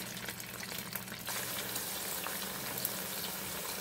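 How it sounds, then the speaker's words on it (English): Chicken alfredo ingredients sautéing in a pan, cooking with wine or liquor, a continuous close sizzle and bubbling that swells slightly after the first second and holds steady, no voices. "You're gonna saute that very well."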